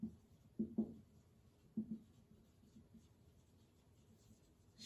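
Writing on a board during a chemistry lecture on equilibrium, heard as a few brief, soft scratchy strokes in small clusters in an otherwise quiet room.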